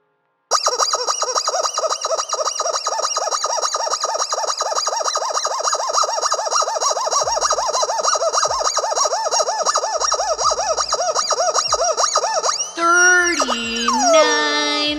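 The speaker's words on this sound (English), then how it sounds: "Rubber chicken squawks." A rubber chicken toy squawks in a long, loud, continuous run of rapid honking squeals, ending in a few slower, wheezing drawn-out squawks up close.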